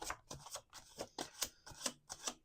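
Tarot cards are riffle-shuffled up close in quick, crisp bursts, about eight ruffling strokes in a rapid rhythm.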